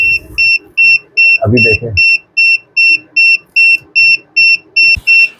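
A Gedsffati gas and carbon monoxide detector alarm in a house beeps loudly and steadily in an even, rapid rhythm of short piercing tones, with a brief burst of speech partway through.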